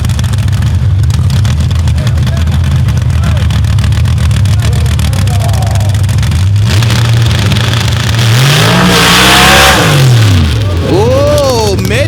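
Nitrous-boosted drag racing car making a pass at a drag strip, a loud continuous engine roar that swoops up and down in pitch as it shifts and sputters, with an excited announcer talking over it throughout.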